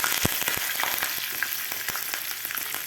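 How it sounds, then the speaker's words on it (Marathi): A tadka of cumin seeds, green chillies and curry leaves sizzles and crackles in hot oil, a steady close frying hiss with sharp pops scattered throughout, no talking. "आपला तडका व्यवस्थित फ्राय झालेला आहे"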